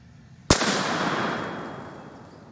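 A single sharp blast from a Savage 220 shotgun fired at a paper target, a loud close crack followed by a long fading outdoor echo and rumble.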